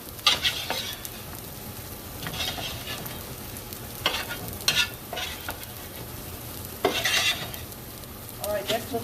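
Potatoes sautéing with peppers and onions in a pan, a steady low sizzle broken by repeated bursts of stirring and scraping, with occasional utensil clinks close by.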